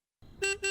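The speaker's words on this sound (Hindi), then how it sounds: "देखो कोई बाहर हॉर्न बजा रहा है।" A car horn sounds twice in quick succession, two short toots after a brief rumble, heard from some distance.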